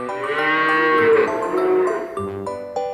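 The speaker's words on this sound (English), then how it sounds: "It's a cow." A cow moos in one long, loud, drawn-out call that falls away near the end, with a shorter second low moo starting just after, heard alone and close for a farm animal sounds lesson.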